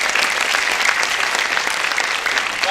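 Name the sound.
audience applause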